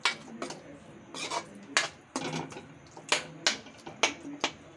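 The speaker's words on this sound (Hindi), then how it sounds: "अब हम इसको मिक्स कर देंगे" Coriander leaves are mixed into pav bhaji in a pan, with a spatula tapping and scraping the metal in a quick irregular rhythm of about a dozen close, crisp knocks.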